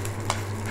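Lentils and dried chillies roasting in a pan for Kerala-style chammanthi, a soft steady sizzle with a few brief stirring scrapes, close and fairly quiet.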